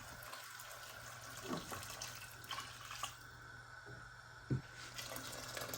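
Water pours into a pot of soaked glutinous rice for chicken arrozcaldo, a steady close splashing and trickling stream with a few small clinks, heard alone without talk.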